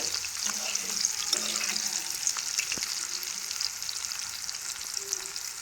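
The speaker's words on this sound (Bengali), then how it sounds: "শুক্তো রেসিপি করতে গেলে এই উচ্ছে আর বেগুনগুলোকে প্রথমে এইভাবে লাল করে ভেজে নিতে হবে" Bitter gourd pieces fry in oil in a pan for shukto, giving a continuous close sizzle with occasional stirring scrapes and clicks.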